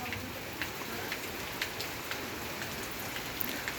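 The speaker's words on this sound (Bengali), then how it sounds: "এদিকে ঝিরিঝিরি বৃষ্টি হচ্ছে" Light drizzle falls steadily over a village field, a soft continuous hiss with scattered drops pattering nearby.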